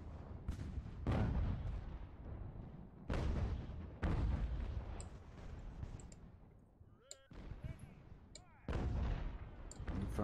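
Cannon volleys from Age of Sail warships in the Ultimate Admiral: Age of Sail game, Siege of Toulon, fire as several loud booming blasts at irregular intervals with rumbling tails, under occasional talk.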